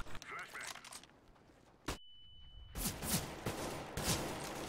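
Gunfire and a flashbang in Counter-Strike: GO: sharp shots, then a sudden blast followed by a thin high ringing, then more rapid shots, with a player talking over the action.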